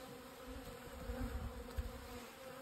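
Honey bees hum softly at a hive during snowy winter beekeeping, making a low continuous drone with a slight swell midway and no voices.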